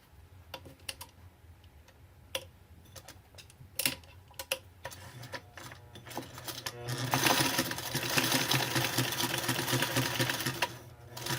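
A sewing machine stitches through a paper craft tag, starting with sparse ticking needle strokes, then running into a steady, louder continuous whir toward the end.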